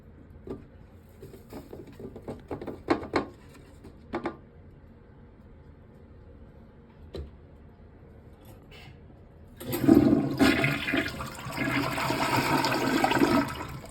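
A toilet flushes: a scatter of small clicks and taps comes first, then a loud, rushing surge of water fills the last third, steady and close with no talking.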